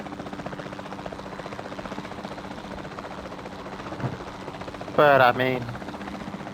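In Jurassic World Evolution 2, a helicopter's rhythmic rotor chop pulses steadily at moderate volume, and someone talks briefly over it near the end.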